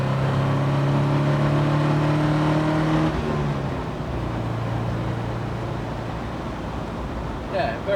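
A car engine revs and pulls hard, its droning tone rising and then shifting gears into a rougher, steady roar, loud and close.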